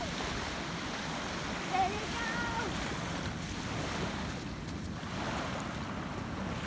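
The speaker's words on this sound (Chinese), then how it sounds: "听着海浪拍打声好疗愈哦" Ocean waves washing onto a winter beach at Tancha Bay, Okinawa, a continuous surf roar with gusty wind buffeting the microphone, heard from close by along the shore.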